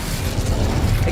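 A spell cast in a fantasy video game set at Hogwarts, a dense, steady magical fire burst with low rumbling crackle and mechanical clicking texture, loud and continuous across the short moment with no voices.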